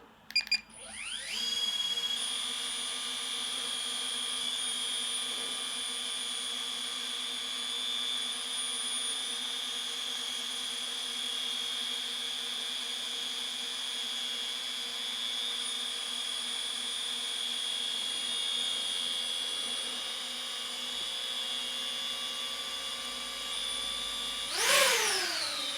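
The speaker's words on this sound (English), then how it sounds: "I'm going to hit record on the drone. I'm going to try and take off." A DJI Avata 2 drone spinning up and taking off, its propellers settling into a loud, steady high-pitched whine that holds throughout and rises briefly near the end.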